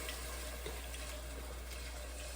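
Beef broth pouring steadily into a pot for chili, a continuous soft liquid stream with no talk, low and even throughout.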